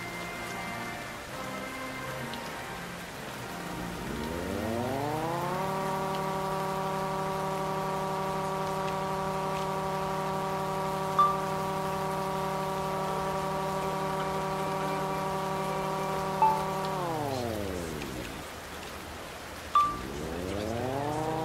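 Sudden rain shower in Hawaii in the video game Like A Dragon: Infinite Wealth, a steady patter of raindrops on surfaces under a swelling, sustained musical chord, with a few sharp droplet ticks standing out.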